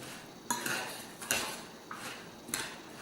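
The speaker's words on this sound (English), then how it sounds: "So we're just gonna kind of mash this in" Minced onion and beaten eggs being mashed into a fish cake mixture in a bowl: a few separate clinks and scrapes of a utensil against the bowl, spaced about every second, quiet and close.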